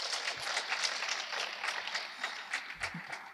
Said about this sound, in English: let's give our two speakers now combined applause